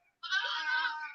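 A sheep bleats once on a lamb farm, a single sustained, wavering call lasting about a second, close and clear with nothing else around it.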